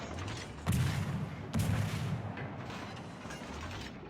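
Naval gunfire from a Fubuki destroyer in a warship video game, two heavy booming salvos about a second apart followed by a sustained rumbling wash of battle noise.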